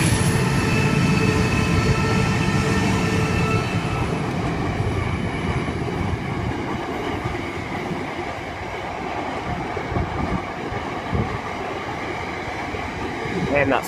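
A freight train led by locomotive AN7 rumbles past up close at East Maitland, its steady broadband roar of wheels and wagons filling the whole stretch, with faint clicking and a high tonal whine.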